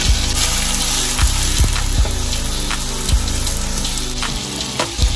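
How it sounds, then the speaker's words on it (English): Two diced tomatoes going into hot oil for beef biryani, a loud steady frying hiss with a few sharp clunks of a utensil against the pan, and no talk. "So we're gonna add both 2 tomatoes diced."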